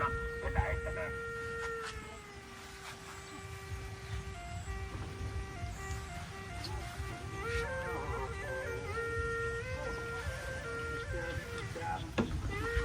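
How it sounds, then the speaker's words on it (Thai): A plant vendor truck's loudspeaker plays a looping melodic jingle with an amplified Thai voice, heard outdoors in rural Isan, Thailand, over steady road and engine rumble, staying at a constant distance. "รถขายต้นไม้ครับ รถขายต้นไม้"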